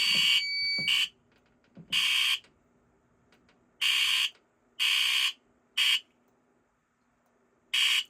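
A fire alarm speaker sounds during a fire system test in loud, shrill bursts of about a second each, starting and stopping irregularly with quiet gaps between them.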